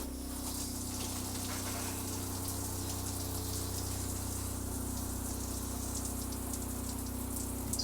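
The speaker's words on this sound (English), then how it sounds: "we will turn the shower knob on. We'll start with the hot this time." Water gushes steadily from an RV travel trailer's shower with the hot tap on, a constant hissing spray over a low pump hum, close and unbroken throughout.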